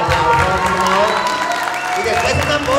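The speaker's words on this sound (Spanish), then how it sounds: "un aplauso para nuestro festejador" Clapping from guests at a birthday party with clowns in Mexico City, applauding the person being celebrated, with voices and crowd noise mixed in and music-like tones beneath.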